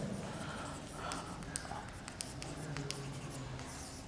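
A pen scratches and taps steadily on paper as a definition is written out by hand during a linear algebra lecture, soft and close under a faint room hiss.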